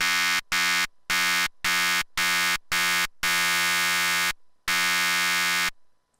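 A bright, buzzy FM synth lead from an Access Virus A with saturation applied plays a rhythmic run of short stabs followed by two longer sustained notes, loud and alone.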